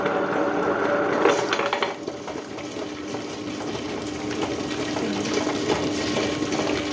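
Water runs and splashes steadily against the constant mechanical whir of an Ultra wet grinder as rice and water are added, with no voices.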